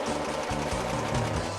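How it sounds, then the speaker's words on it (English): An embroidery machine stitches rapidly in a short burst, a steady close mechanical rattle with regular needle pulses and no voices. "and an embroidery machine."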